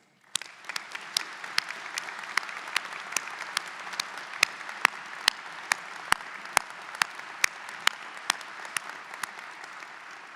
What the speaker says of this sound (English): Let's give a round of applause to all of those who have been part of this journey.